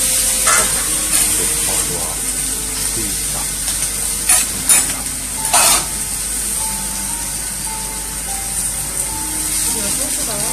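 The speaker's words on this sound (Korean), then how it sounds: "해산물을 익히고 계시고요" Steady sizzling of seafood frying on a hot griddle at an okonomiyaki restaurant in Shimokitazawa, Tokyo, with clinks of utensils and a few voices talking in the background.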